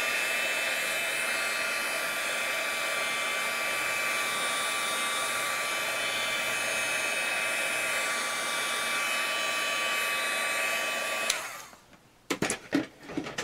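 Heat gun blowing steadily to dry paint on a craft project, a loud continuous whooshing hum held for about eleven seconds, then switched off, followed by a few clicks and handling sounds.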